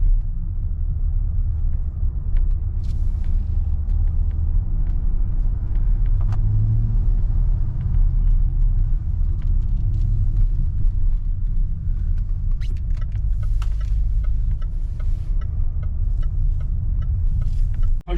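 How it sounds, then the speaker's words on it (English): Range Rover L405 engine after a throttle body swap, a steady deep rumble heard close from inside, swelling slightly as the throttle is pressed and released. "When I'm taking my foot on and off the throttle, it is responding."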